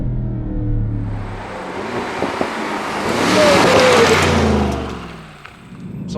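A 2024 Mercedes SL63 AMG engine revving hard through the gears, a loud close roar that swells and climbs in pitch mid-run, then dips briefly around a gear change before pulling again.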